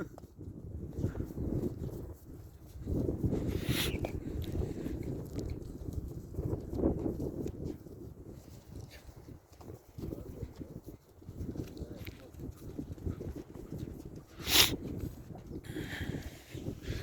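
Horses walking on a mountain trek toward Karombar Lake, hooves clip-clopping unevenly on rough ground amid outdoor wind and rustle, with muffled voices and calls from the riders now and then.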